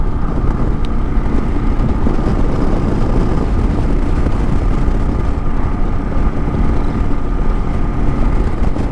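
A 2022 Kawasaki KLR650 single-cylinder dual-sport motorcycle cruising on the road, its engine a loud steady drone mixed with heavy wind rush, with no talking.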